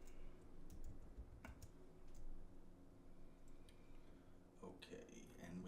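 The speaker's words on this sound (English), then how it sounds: "I'm just going to type in terrain" Soft, irregular clicks of typing on a computer keyboard, entering a search for terrain data in mapping software, sit faintly beneath a low background hum.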